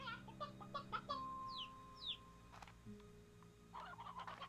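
Chickens in the video game Slime Rancher 2, a short run of soft clucks and chirps at the start, then a few squeaky sliding calls and a burst of clucking near the end over a faint hum.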